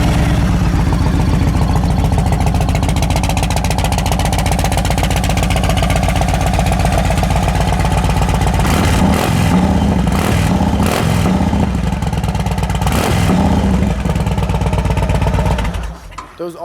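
A 2015 Yamaha Raider motorcycle with Cobra exhaust runs loud and close, its steady throbbing idle broken by a few sharp revs near the middle before the engine cuts off at the end.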